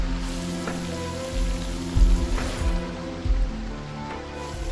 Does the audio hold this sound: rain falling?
yes